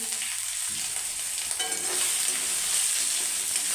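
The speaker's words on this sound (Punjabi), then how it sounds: "ਜੀਰੇ ਜਿਹੜਾ ਵਾ ਉਹ ਘੱਟ ਗੈਸ ਤੇ ਉੱਤੇ ਆਪਾਂ ਭੁੰਨਣਾ ਵਾ" Cumin seeds roasting in a pan over low gas for Punjabi-style aloo matar, giving a steady, close sizzle with faint stirring scrapes throughout and no talking.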